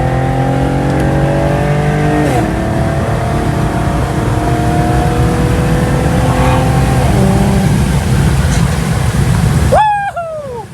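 A modified Infiniti Q50 accelerates hard in traffic, its loud engine revving through climbing gear pulls with shifts in between, then cutting off sharply near the end.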